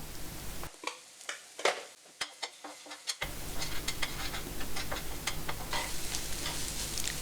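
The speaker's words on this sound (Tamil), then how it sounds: "நான் எனக்கு ஒரு மூணு முட்டை எடுத்திருக்கேன் இப்போ இது கூடவே சிட்டிக்கு அளவுக்கு உப்பையும் சேர்த்துட்டு நம்ம ஸ்க்ராம்பிள் பண்ணி எடுத்துக்கலாம்" Three eggs with salt being beaten for scrambling: a run of sharp, rhythmic taps of a utensil against the vessel, followed by a steady, dense scraping and whisking hiss that continues to the end.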